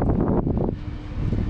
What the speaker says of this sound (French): il y a beaucoup trop de vent